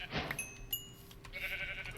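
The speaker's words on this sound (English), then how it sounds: "Sheep" Sheep bleating in the Minecraft Tektopia mod, a couple of short, faint bleats mixed with small game chimes and clicks, quiet and close.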